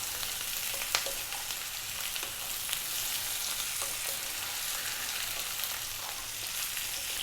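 Beef brisket and a quartered tomato fry in a hot pan, giving a steady, even sizzle with scattered faint crackles throughout and no voices.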